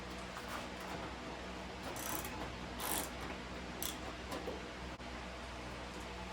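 A ratchet with an 8mm socket works bolts loose on the air scoop of an R53 Mini Cooper S, a few brief clicking bursts close by over a constant background hiss, with no talking.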